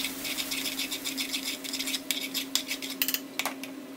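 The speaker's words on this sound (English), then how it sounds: "So that goes in. I'm giving it a slight mix." A spoon clinks and scrapes lightly and rhythmically as ground coriander is stirred into onion and oil in a pan for a sea bass curry, close and fairly quiet against a steady hum.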